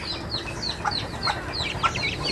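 Several chickens in an overcrowded coop, some suffering from feather picking, cluck in short repeated bursts against a steady low background hum, with no voices.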